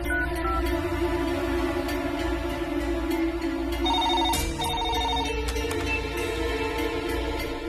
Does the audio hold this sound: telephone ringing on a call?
yes